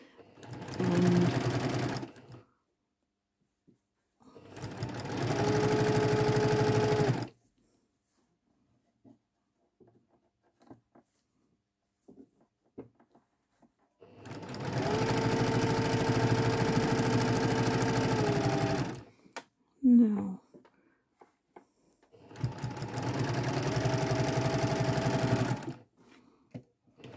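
A sewing machine stitches quilting fabric in four long, steady runs separated by quiet pauses, with brief small handling and trimming sounds between the runs.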